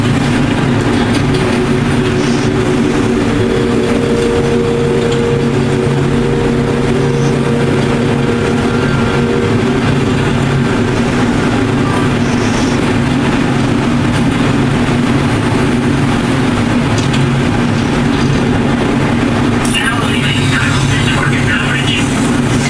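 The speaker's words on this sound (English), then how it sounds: "You're just sitting on a monorail." A monorail glides along its track in the video game Death Stranding 2, giving a steady, loud rumble and hum that runs unbroken throughout with no pauses.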